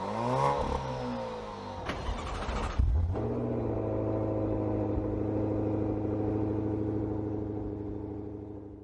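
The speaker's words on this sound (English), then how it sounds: "this has an engine performance sound to it" A 2020 Alfa Romeo Stelvio Ti Sport Carbon engine revs hard for a few seconds, then settles into a steady, loud idle rumble that continues to the end.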